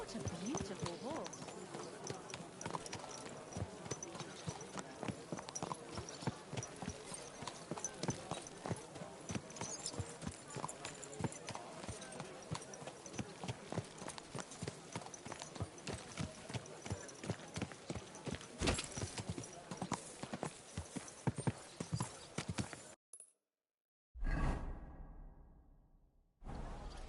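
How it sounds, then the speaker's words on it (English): Horse hooves clip-clop steadily in the medieval video game Kingdom Come II, a brisk, regular rhythm of close hoofbeats with a voice speaking over them, before a short silent break near the end. "What a beautiful horse."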